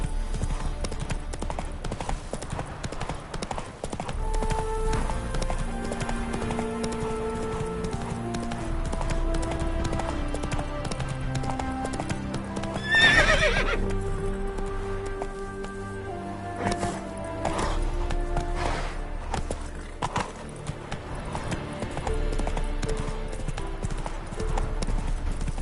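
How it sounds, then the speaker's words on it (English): Horse hooves clip-clopping steadily in The Witcher 3, with a neigh or whinny partway through, mixed under game music and ambient sound. "Whoa there, Roach."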